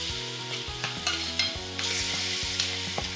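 Masala is stirred in a pan after a little water and salt go in, a steady sizzle with repeated scraping strokes of the spoon, close and continuous and without talk.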